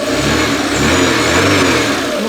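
A Porsche 924 engine fresh from an overhaul runs close and loud, its revs rising and falling in a continuous throaty drone, with no talking.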